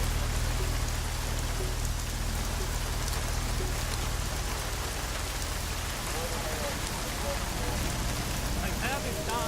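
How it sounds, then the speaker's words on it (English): Steady rain falls throughout in the video game Deus Ex: Mankind Divided, a dense constant hiss of drops on surfaces with no breaks, holding at an even level from start to finish. "At least get us out of the rain."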